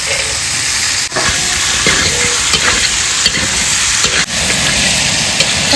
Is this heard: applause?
no